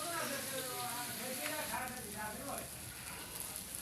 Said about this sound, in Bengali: এখন মা এই যে মশলাটা ভেজে নিচ্ছে